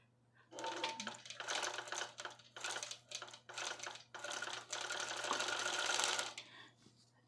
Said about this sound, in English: I'm going to have to get the computer to do continuous stitching